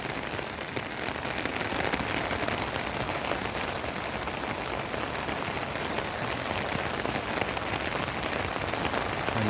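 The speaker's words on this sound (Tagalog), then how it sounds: "Patuloy pa ang paglakas ng ulan" Steady, dense rainfall from a typhoon pours down without a break, a broad hiss of heavy rain drumming on surfaces, near the swollen Cagayan River.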